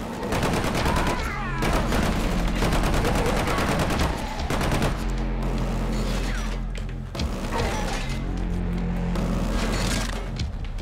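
Sustained machine gun fire in the PS4 shooter Killzone Shadow Fall, dense rapid bursts running almost continuously with game effects and music beneath, loud and close, no speech.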